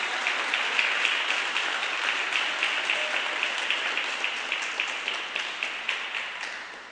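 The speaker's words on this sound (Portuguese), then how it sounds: "aplausos bem fortes para Jesus" A church congregation applauds loudly for Jesus, a dense wash of many hands clapping that holds steady for several seconds and then settles into more rhythmic, fading claps.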